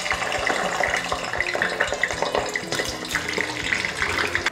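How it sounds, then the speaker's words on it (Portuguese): Potatoes frying in a pan give off a loud, dense, steady sizzle with crackling bubbles and occasional clinks, heard up close and continuously with no voices. "eu vou começar colocando aqui a batata para fritar"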